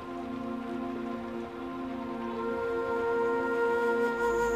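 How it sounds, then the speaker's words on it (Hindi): Steady rain pours down, a broad continuous hiss with a faint tonal hum running beneath it; no voices are heard. "इस बारिश से बहुत डर लग रहा है"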